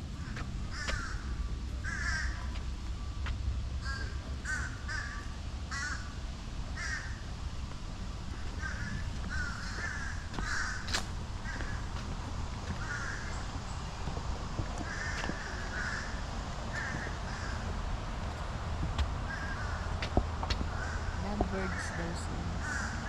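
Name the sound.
lovebirds calling at Homosassa Wildlife Park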